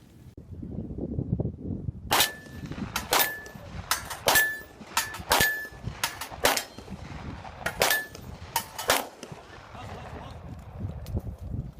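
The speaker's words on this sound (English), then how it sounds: "we got a copy of some of the video that shows these shooting skills that are pretty impressive" Gunfire rings out at a tactical shooting range in a rapid series of sharp, loud shots, some with bright metallic clangs from struck targets, while people talk in the background.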